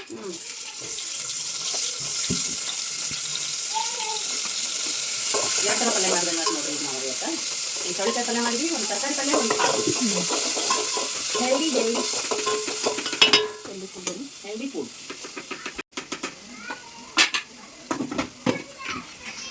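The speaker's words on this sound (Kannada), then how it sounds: "ನಮ್ಮ ಅಕ್ಕ ಈಗ ಮಟ್ಟಿ ಕಾಳು ಪಲ್ಯಕ್ಕೆ ಒಗ್ಗರಣೆ ಕೊಡತ್ತಾಳ" Spices tempered in hot oil for a sprouted bean (matki) curry in a home kitchen, a loud continuous sizzle and frying hiss with stirring, while someone talks over it and the sizzle later breaks into clattering knocks.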